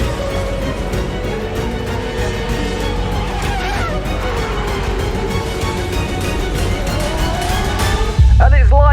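F1 race car in the EA Sports F1 24 video game, a loud continuous high-revving engine whine that rises and falls through gear changes, with faint tire noise and a sharp burst at the end.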